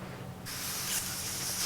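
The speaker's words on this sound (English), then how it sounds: "I know how this works with this airbrush." An airbrush spraying dye onto an acoustic guitar in a workshop, a steady close hiss that starts abruptly and holds for over a second.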